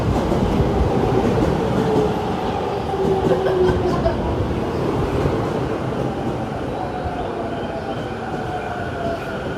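A commuter train in Japan rolls in loudly, rumbling and clattering on the rails with a thin squeal of wheels as it slows into the station.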